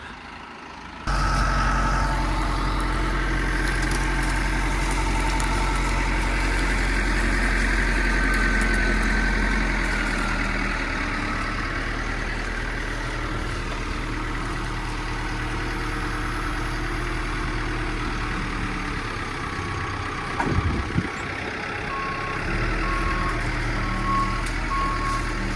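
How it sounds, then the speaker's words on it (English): A truck idles loudly with a deep, steady engine rumble and then reverses, sounding a repeating backup beeper. A brief clunk comes near the end. "So I got to get my truck moved out of the way"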